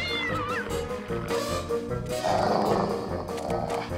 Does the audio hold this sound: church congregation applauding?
no